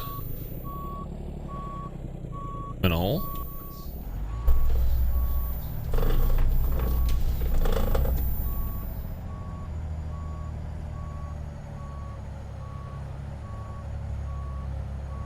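Steady, evenly spaced reversing beeps from a truck in a video game sound throughout, over low engine rumble and a few louder mechanical bursts, with a brief spoken question early on.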